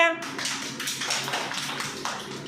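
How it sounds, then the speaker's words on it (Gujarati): Children clap for a boy named Yatik during an activity in which kids walk along a line: a dense, steady patter of many small hands, continuous and fairly close, with an adult voice speaking over it. "તાળી પાડજો યતિક માટે"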